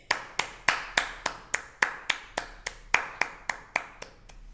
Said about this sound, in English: extra special round of applause.